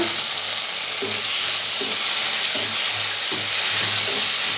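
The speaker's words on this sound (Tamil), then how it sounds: "இது நல்லா வதக்கி கொடுக்கலாம் கொஞ்சம் நேரம்." Steady sizzling of green peas frying in a pan, with soft periodic stirring scrapes over a constant hiss; no voices.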